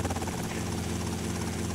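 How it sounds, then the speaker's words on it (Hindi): A helicopter arrives in the GTA Vice City video game, its steady rotor thrum and engine drone filling the short stretch continuously and loudly, with no talk over it. "हेलीकॉप्टर आ गया अपना,"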